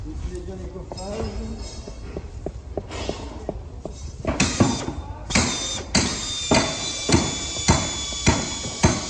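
A screw is driven into a wall anchor set in a drilled hole, giving regular sharp knocks that grow louder and evenly spaced in the second half, with a voice speaking over the start.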